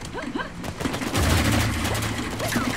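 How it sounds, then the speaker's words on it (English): Gunfire in Uncharted 4 multiplayer, with a sustained burst of rapid shots and heavy low thumps swelling after a quieter start, loud and close, with some voices mixed in. "there's someone trying to shoot me"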